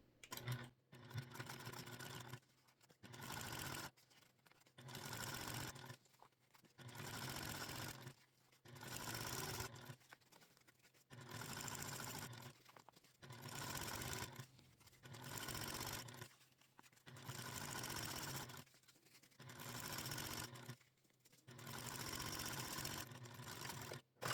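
Sewing machine top stitching a zipper panel on a handmade project, running in about a dozen steady bursts of even mechanical whirring, each a couple of seconds long and separated by short pauses, close and moderately loud with no voices.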